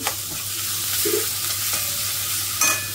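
Onion sautéing in a pan makes a steady hiss close by, with a faint clink or two and a brief scrape near the end.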